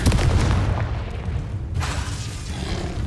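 A Confringo explosion spell is cast in Hogwarts Legacy: a loud, dense booming blast with heavy low rumble that fills the scene and tails off into a rolling roar, with no talk over it.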